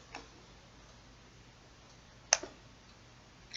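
A few faint, sharp computer mouse clicks, including a right-click, stand out against near silence, with one crisp click clearly louder than the others.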